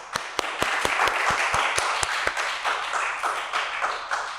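Scattered claps in a steady, slightly uneven beat welcome a guest, the music mentor Teemeer, onto a podcast. The claps come from a small group close by and carry on for several seconds with no voices over them.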